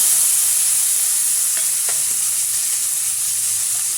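Small shallots frying in a pan for a curry leaf thokku, a constant bright hiss of hot oil with a few faint spatula taps and scrapes.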